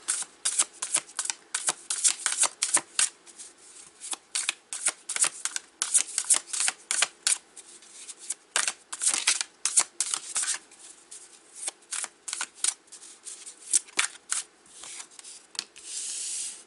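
Tarot cards being shuffled and handled close by, a steady run of crisp riffling flicks and papery slides with brief pauses, no voices.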